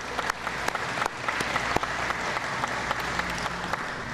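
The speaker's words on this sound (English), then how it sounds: "you can clap for that." A crowd claps at the opening of an after-school program site at Gately Park, a steady roomy roar of many hands with sharper individual claps popping through.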